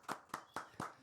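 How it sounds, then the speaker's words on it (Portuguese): Four distinct, evenly spaced hand claps ring out alone in about a second, a short burst of applause welcoming a guest onto a Portuguese-language talk show. "Uma salva de palmas para ela."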